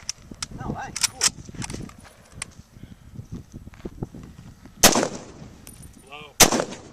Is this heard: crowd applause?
no